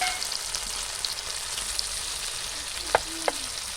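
Chicken pieces frying with green chillies and salt for chilli chicken, giving a steady, moderately loud sizzle throughout with a couple of brief sharp spatters or utensil clinks near the end; no voices.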